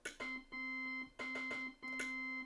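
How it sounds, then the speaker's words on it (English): A short synthetic car-horn sound effect from Mario Paint Composer repeats three times in quick succession, each blast bright and buzzy and abruptly cut off. "you'll get a short car sound like this"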